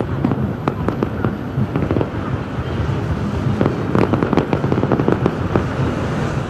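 Fireworks at the Athens 2004 Olympic closing ceremony in the Olympic stadium, a dense continuous crackle of bursts and pops with sharp louder bangs throughout, heard loud and alone over a wind-buffeted rumble.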